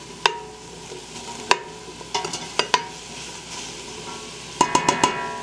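Jambalaya cooking down on high heat, a soft steady bubbling sizzle punctuated by sharp clinks and scrapes of a spoon against the pot, close up with no voices.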